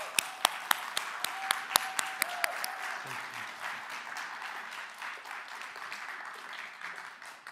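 Audience applause at a TEDx event at Columbia College, South Carolina: a few sharp, loud claps at the start give way to a steady, dense wash of clapping that carries on to the end, with a voice briefly heard early on.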